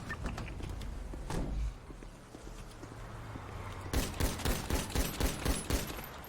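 Rapid gunfire from a local in a police roleplay game, a burst of sharp shots ringing out loudly after a stretch of engine rumble and clip-clop-like noise, the cracks repeating in quick succession.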